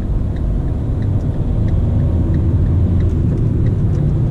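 Steady low rumble of a Fiat Linea car moving through heavy city traffic in Bursa, an even engine and road drone close by throughout with no talk.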